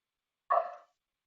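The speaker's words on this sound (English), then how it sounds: "I'm going to apologize for my dogs barking in the background." A single sharp dog bark rings out at moderate distance, one short burst in an otherwise quiet background with no talking.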